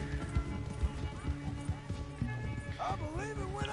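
A horse gallops in Red Dead Redemption II with a steady, rapid clip-clop of hooves that continues throughout, while talk runs over the hoofbeats and a short whinny-like sound rises near the end.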